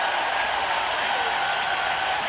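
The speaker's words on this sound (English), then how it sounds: "The crowd standing up here in the second inning." A crowd at a baseball stadium during a 1991 World Series game, Twins at Braves, cheers and applauds in the second inning, a continuous, loud roar of clapping and cheering with no breaks.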